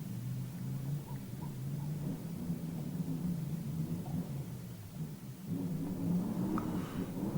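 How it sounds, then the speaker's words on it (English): Wind buffeting a car with low rumbling and faint rattles, a steady droning roar that swells slightly toward the end, with no voices. "You probably hear the wind and the rattling around the car"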